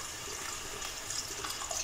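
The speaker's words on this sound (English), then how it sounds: "So I'll just add in water" Water is poured into a pot of tripe stew, a continuous broadband splashing rush that stays steady and close throughout, with no voices.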